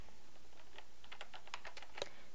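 Light typing on a computer keyboard while entering a name in an Excel spreadsheet, a short quick burst of quiet key clicks picking up toward the end.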